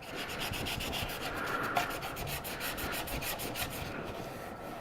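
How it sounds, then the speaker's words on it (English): Steady, close rasping strokes of sandpaper rub back and forth over a Batman prototype build at an even rhythm, continuous and fairly quiet with no talk. "you can even hear the difference when I'm sanding"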